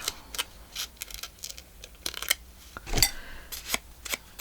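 Scissors trimming a small strip of paper for a Christmas tag accordion booklet, giving a string of quick, light snips and rustles heard close up, with one louder clack in the middle.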